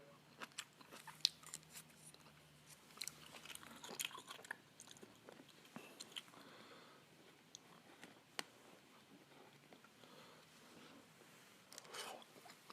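Close, quiet chewing and biting of kimchi during a Korean bento box meal, with soft crunches, wet mouth sounds and scattered sharp clicks in an irregular rhythm.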